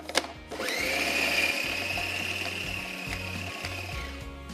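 An electric food chopper grinds spiced minced meat for achari kofta, starting with a short click then a steady whirring motor drone that runs for a few seconds before cutting off.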